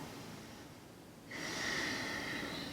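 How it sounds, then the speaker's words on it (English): Throaty ujjayi yoga breath with a Darth Vader-like rasp, heard close and alone: a quieter stretch gives way to a louder, sustained airy exhale with a hissing edge. "it almost creates a slight restriction in the back of your throat, which also helps to create the Darth Vader sound"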